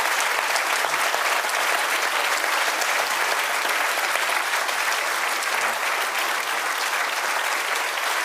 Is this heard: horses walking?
no